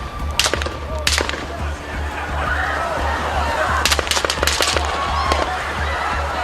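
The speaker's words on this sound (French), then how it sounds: "Quand soudain, des coups de feu retentissent." Several sharp gunshots ring out at an outdoor Donald Trump rally speech, a quick cluster of cracks followed by a second burst a few seconds later, over a low crowd murmur.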